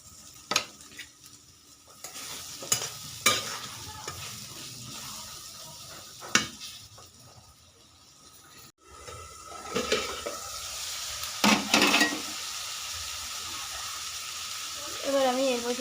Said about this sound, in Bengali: এটা একটু ভাজা ভাজা করে নেব, ভেজে নেব ঝিঙে।